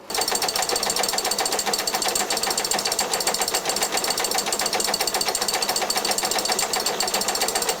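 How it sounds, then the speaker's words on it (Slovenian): A working mill and saw mechanism clatters continuously and loudly, a dense rapid mechanical rattling like a jackhammer or sewing machine that holds steady throughout without pause. "Lahko tudi pogledate, kako dela mlin pa žaga."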